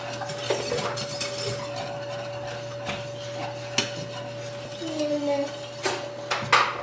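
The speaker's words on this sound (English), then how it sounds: "I'm just going to stir those gently until they're dissolved" Gentle stirring of lactose in a pan on the stove, with soft scrapes and light clinks of a utensil against the pan recurring at an unhurried pace, close and quiet over a steady low hum.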